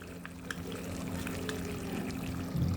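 Vinegar and green chilli sauce are poured into a pan while cooking chilli chicken gravy, making a soft, continuous liquid trickle over a low kitchen hum, without speech.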